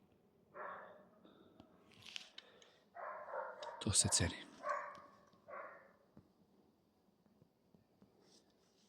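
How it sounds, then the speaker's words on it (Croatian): A scent hound in training barks in short bursts, several woofs and yelps spaced across the span, some loud and close, with someone speaking briefly. "Eto, sedi i laje."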